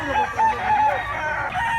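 A bull stag rooster, a young fighting cock offered for sale, crows in repeated bursts, loud and close by, with no talking during the call.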